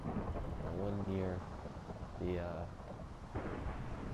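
Rumbling thunder and steady rain from the Minecraft video game fill the background. A person talks over it in short bursts.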